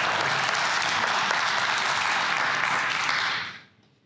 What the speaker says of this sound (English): that's all I get for a clap